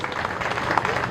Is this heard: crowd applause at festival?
yes